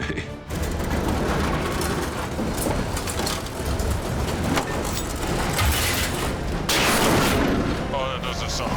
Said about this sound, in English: Now Al will attempt to winch the semi away from the boulder.